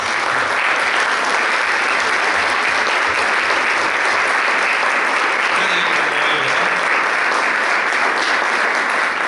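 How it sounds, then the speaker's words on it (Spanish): A church congregation applauds during a sermon, a dense, steady wash of many hands clapping close and loud from start to finish with no voices over it. "dale un aplauso al príncipe de los pastores"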